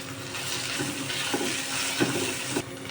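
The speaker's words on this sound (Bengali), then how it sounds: "সব একসাথে ভেজে নিচ্ছি।" Vegetables fried with cashews, raisins and almonds in a pan for veg dal, a dense steady sizzle up close with soft stirring scrapes every half second or so.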